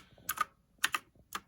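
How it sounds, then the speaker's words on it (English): Several keys pressed one at a time on a Havit gaming keyboard, giving crisp, close clicks in three separate pairs of quick strokes with brief pauses between them. No one speaks over the clicks. "just press a few different keys."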